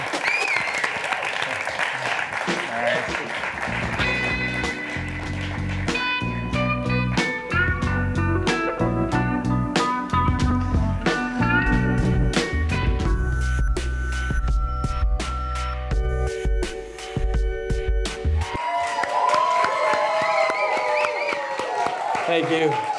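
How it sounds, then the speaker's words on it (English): A live audience at a downtown podcast taping gives a long, steady round of applause with cheering, loud and sustained throughout, while music plays and a host speaks over it. "Give them a round of applause."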